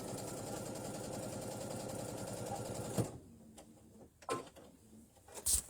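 Sewing machine stitching a maple leaf quilt block, running steadily for about three seconds with a fast even hum, then stopping, followed by a few close clicks and fabric handling.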